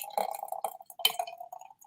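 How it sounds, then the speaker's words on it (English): Orange juice pours from a glass into a beet smoothie mixture, a run of light splashy gurgles and drips, close and fairly quiet, with a brief stronger splash midway. "now we're gonna pour the beautiful orange"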